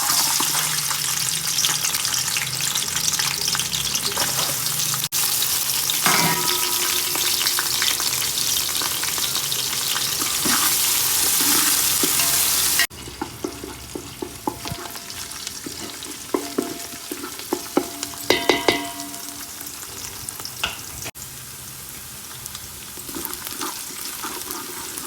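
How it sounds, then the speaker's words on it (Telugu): Onions sizzling and frying in hot oil for mutton biryani, a dense steady crackle throughout with scraping stir strokes and clatters of a spoon against the pan, close and loud. "ఉల్లిగడ్డలు బాగా వేగాలి."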